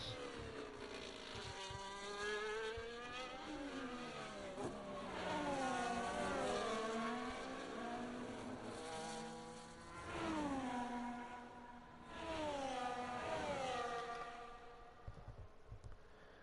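Race cars, including a McLaren, lap a track in a racing game set at Hungary, their engines whining and rising and falling in overlapping pitch sweeps as several cars pass, fairly loud and continuous without talk.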